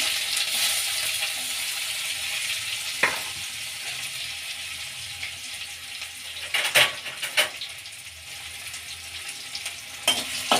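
Cumin, mustard seeds, asafoetida, ginger and garlic fry in hot oil with a steady crackling sizzle, broken by a few sharp clinks and stirring scrapes of a utensil against the pan.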